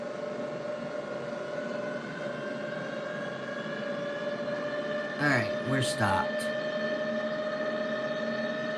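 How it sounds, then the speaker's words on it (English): A train departing in the Train Sim World 2020 game on the Northeast Corridor near New York, heard as a steady, even mechanical drone with sustained tones throughout, while someone speaks briefly partway through. "Even though there's a train leaving, that's what that is."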